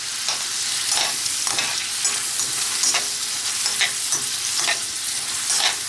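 Calamari sizzles steadily in a hot pan, with soft clicks and scrapes from tongs turning the pieces at irregular moments over the constant frying hiss.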